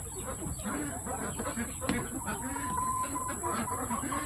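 Turkeys cluck and murmur softly nearby in a busy, irregular patter, with a faint steady whine in the background.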